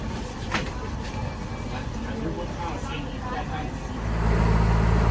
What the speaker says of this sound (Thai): อันนี้รถไฟก็เริ่มออกจากชานชลาแล้วครับ